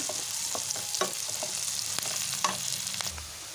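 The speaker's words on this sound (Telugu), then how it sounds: "ఇలా ఆనియన్ మంచిగా వేగిన తర్వాత కరివేపాకును కూడా వేసుకొని వేయించుకోవాలి" Onions frying in oil and being stirred for a dil pasand tinda curry, a steady sizzle broken by sharp spoon scrapes and clinks against the pan, close and clear.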